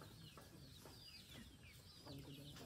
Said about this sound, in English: Wow, a beautiful rooster again